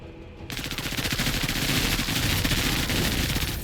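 Rapid automatic gunfire from a squad in the MENACE video game breaks out after a brief quiet start and carries on as a dense, loud, continuous rattle of shots with no talking.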